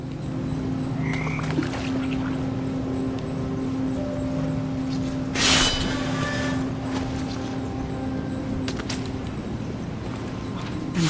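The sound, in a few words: toads croaking in What Remains of Edith Finch video game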